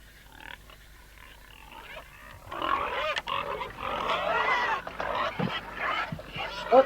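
Grunting and oinking from a pair of store pigs on a farm, rising loud and close after a quiet start and continuing in bursts, with a voice speaking over part of it.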